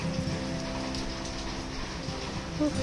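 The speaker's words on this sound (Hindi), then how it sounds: "तो ये बारिश देखिए हो ही रही है।" Steady monsoon rain pours down in a Kinnaur village, a dense, continuous hiss of drops drumming on surfaces with no voices over it.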